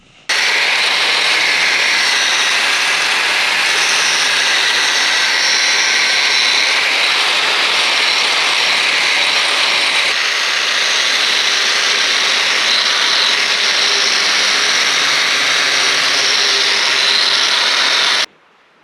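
A grinder hollow grinds the edge of a log splitter wedge, giving a loud, continuous high whirring roar that holds steady for about eighteen seconds before cutting off, with no voices.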